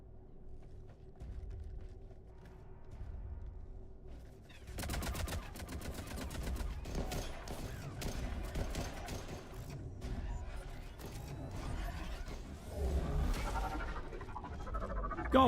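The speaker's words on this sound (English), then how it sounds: "A spike launcher sounds pretty cool." Spike launcher weapon fire in Mass Effect 3 amid a combat scene, with a run of sharp repeated shots and mechanical clatter starting a few seconds in, over steady low background rumble.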